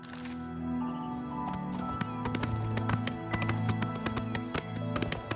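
A horse's hooves clip-clop steadily along a road in the video game Oblivion Remastered, a quick, even rhythm of sharp taps over a soft outdoor ambience.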